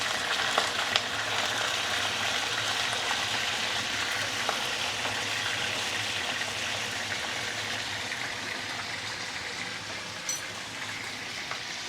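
Fish frying in a pan just after being flipped, giving a continuous close, even sizzle with small crackles and pops throughout.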